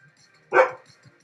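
A single sharp dog bark rings out close by indoors, one short loud burst amid quiet room sound, while the neighbor is outside with her dogs.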